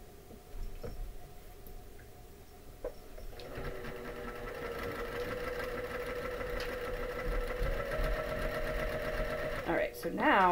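A sewing machine sews an overnight bag in a quilting session, its quiet rhythmic stitching building into a steady run. A voice talks alongside it, and a few clicks come near the end.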